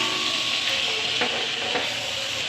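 Green capsicum, onions and chicken sizzle and fry steadily in a pan. A spatula scrapes and stirs now and then, and the hiss stays close and continuous.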